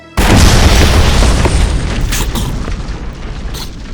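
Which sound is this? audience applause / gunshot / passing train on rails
gunshot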